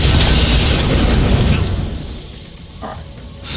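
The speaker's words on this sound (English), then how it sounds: "Alright. One grenade wasn't enough." A grenade blast in the video game Far Cry 6 fills the start with a loud, broadband boom, and its rumbling tail fades over the next few seconds, with no talk over it.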